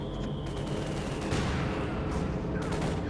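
Sturmgewehr assault rifles fire in a Company of Heroes 2 battle, with dense overlapping bursts of gunfire forming a continuous, loud crackling din throughout.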